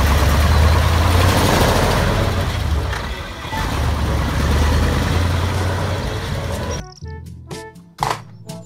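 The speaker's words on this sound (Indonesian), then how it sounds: "Mobil truk molen" A concrete mixer truck's engine idles nearby with a steady heavy low rumble for several seconds, then cuts off, leaving a few sharp clicks and knocks.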